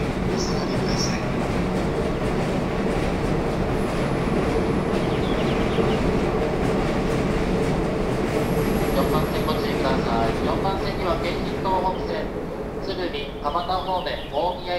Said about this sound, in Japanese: まもなく4番線に各駅停車大宮行きが参ります。